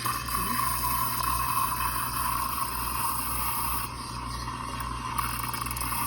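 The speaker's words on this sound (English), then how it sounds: "That's how you get the milk to get that foam, that froth." Steady hissing and gurgling of an espresso machine steam wand frothing milk, a continuous airy rush with a faint high whine.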